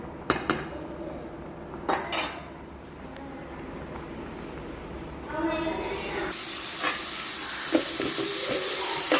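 Curry leaves and onion sautéing in oil in a pan, a bright hissing sizzle that swells midway after a few clinks of utensils and pan, with a voice talking over it.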